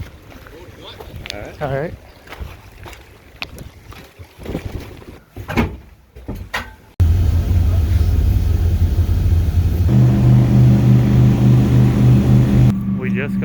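A small water taxi boat at Milford Sound, New Zealand gives a loud, steady engine drone mixed with wind, starting abruptly after a stretch of brief talk and handling noise.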